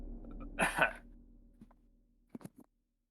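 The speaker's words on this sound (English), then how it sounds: "Cough." A single short cough from a man, close to the mic, followed by a few faint clicks in an otherwise quiet room.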